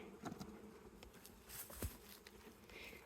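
Agitated honeybees buzz inside an opened top bar hive, a dense, steady swarm hum throughout with a few sharper passes of individual bees close by.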